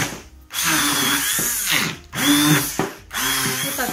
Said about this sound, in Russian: Вот так, хорошо перебили блендером.